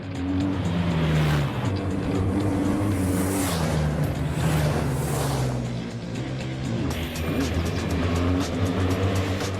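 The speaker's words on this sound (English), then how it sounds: "riders come out of the forest onto a wide open road where the BMWs can really open up" Several BMW GS adventure motorcycles accelerate hard along a wide open country road in Queensland during a rally safari, engines revving loudly and steadily throughout, with rising and falling engine tones as they pass close by.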